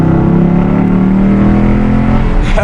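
A Dodge Charger Scat Pack accelerates hard in a full-throttle pull, its loud V8 engine climbing steadily in pitch close-up before backing off at the end.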